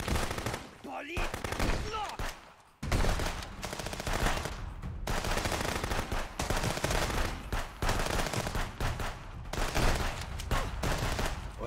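Gunfire from the video game Contraband Police crackles in rapid bursts and single shots, loud and close, broken by a brief lull and then resuming in dense volleys.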